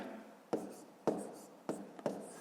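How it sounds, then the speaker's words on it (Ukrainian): Pen or marker strokes on paper while a line is drawn and the number 175 is written out during a fifth-grade maths exercise, four sharp scratchy taps with trailing scrapes, close and fairly quiet, no talking. "Отже, тоді проводимо лінію і записуємо 175."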